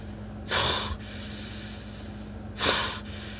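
A voice imitates a huge werewolf breathing at an open window: two loud, harsh breathy snorts about two seconds apart over a quiet hum.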